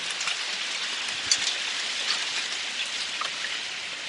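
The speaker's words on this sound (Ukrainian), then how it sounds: "І град такий непоганий." Large hailstones falling outdoors, a steady patter of hard impacts with a few sharper, louder hits standing out, fairly close and continuous with no voices.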